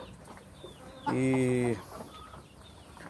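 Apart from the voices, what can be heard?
chickens clucking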